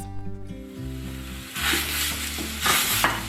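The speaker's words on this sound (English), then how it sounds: "The ground beef is almost browned up." Ground beef browns in a pan with a steady sizzle that swells louder partway through, stirring strokes audible over a sustained musical backing.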